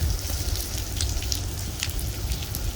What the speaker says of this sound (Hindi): अभी फ़िलहाल बारिश कम हुई है